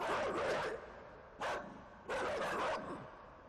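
Dogs bark in the video game INSIDE, three short bursts of muffled barking at moderate distance, separated by brief pauses.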